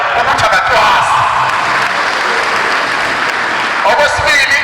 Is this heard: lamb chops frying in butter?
no